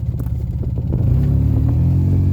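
A 2010 Polaris RZR 800 side-by-side fitted with a Boondocker turbo, running a little rich, held at wide open throttle: a loud, close, continuous low engine roar that swells slightly partway through and then stays steady, with no talking.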